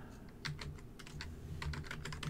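Keys tapped on a computer keyboard while entering a vendor into a form, in a few quick bursts of close, crisp clicks over a quiet room.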